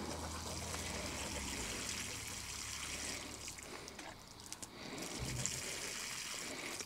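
Water draining away into soil after watering newly planted tomato plants outdoors, a faint steady trickling and seeping wash with soft gurgles, heard alone without talking.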